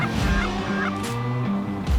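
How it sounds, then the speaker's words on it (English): Homemade PVC goose call with a zinc reed blown in short honking bursts, several nasal honks in an uneven rhythm, close and loud with no talking. "this is my goose call that I made"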